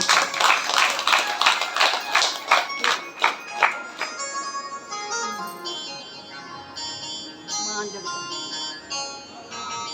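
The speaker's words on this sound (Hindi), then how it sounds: "आपके लिए जोरदार तालियां दीजिए" Rhythmic unison clapping from an audience at a Shiv Mahapuran religious discourse gathering in a temple setting, about a dozen sharp beats over four seconds, then fading into a sustained musical drone with harmonium-like tones.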